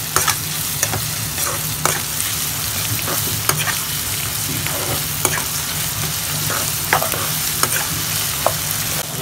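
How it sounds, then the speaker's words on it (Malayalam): Mustard seeds sizzle and crackle loudly in hot oil for a homemade lemon pickle, a dense, steady frying hiss scattered with sharp pops throughout, no voices. "എണ്ണ ചൂടായി വന്നിട്ടുണ്ട്. നമുക്ക് അതിലേക്ക് കടുകിട്ട് കൊടുക്കാം."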